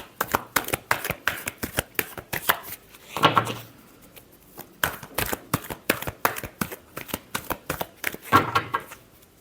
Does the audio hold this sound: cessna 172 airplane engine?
no